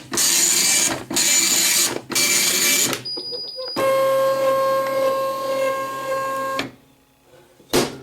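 A Panasonic KX-P1524 24-pin wide-carriage dot matrix printer prints in loud bursts of buzzing head passes separated by brief pauses, followed by a long steady whining pass and a short final burst, with no talking.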